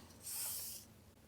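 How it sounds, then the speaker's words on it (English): A spray bottle mists a painter's palette in one short, soft hissing burst lasting about half a second, close and quiet. "I'm going to spray my palette here"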